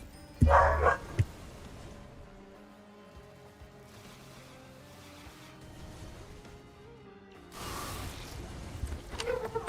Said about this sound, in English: I think they stopped barking.